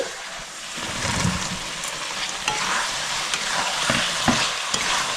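Chicken pieces drop into a hot pan for restaurant-style chilli chicken, bringing a close, steady frying sizzle with scraping stirs and clatter as everything is mixed, with no talking.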